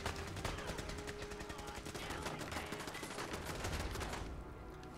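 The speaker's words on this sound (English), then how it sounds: "I'm just going to look at the floor whilst I'm getting shot at" Fallout 4 firefight: dense, continuous rapid gunfire crackling for about four seconds at steady loudness, mixed with game noise, then cutting off.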